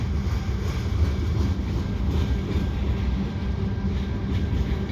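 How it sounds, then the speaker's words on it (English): A CN diesel freight train with two road locomotives and a road switcher rolls steadily past at close range over the Lachine Canal, a continuous low rumble of engines and wheels with faint rhythmic clatter throughout. "Two road locomotives and a road switcher."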